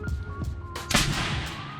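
A toy bead bazooka in a workshop firing once, a single sharp pop with a brief burst of noise partway through, heard close over steady background hum.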